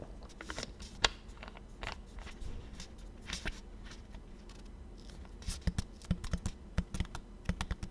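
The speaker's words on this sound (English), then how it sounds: "My W key keeps bouncing. I need a new keyboard." Computer keyboard typing with a sticky, bouncing W key: irregular bursts of crisp key clicks, some isolated sharp taps and clustered rapid strokes, close and moderately quiet, no talking.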